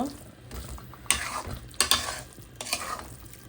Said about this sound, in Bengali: এখন একটু নেড়ে চেড়ে তারপরে নামিয়ে নেব।